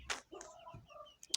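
Backyard chickens clucking, a few short close chirpy clucks and soft calls with brief pauses between them, faint and without talk.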